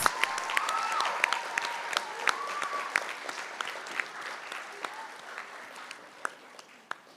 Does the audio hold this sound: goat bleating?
no